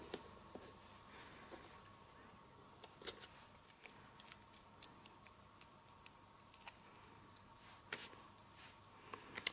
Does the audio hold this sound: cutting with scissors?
yes